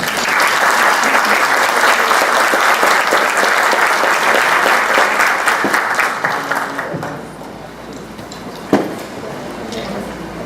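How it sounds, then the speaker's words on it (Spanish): An audience at an educational innovation conference applauds to welcome a speaker, a dense, loud burst of clapping that holds for several seconds, then thins out and fades, ending with a single thump. "a quien pido que recibamos con un fuerte aplauso"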